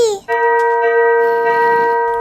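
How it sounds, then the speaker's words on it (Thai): A village alarm bell in Minecraft rings loud and close, one clear metallic strike with a long sustained ringing tone. "เอ๊ะนั่นเสียงอะไรอะชิกกี้เสียงระฆังแจ้งเตือนนี่นะ"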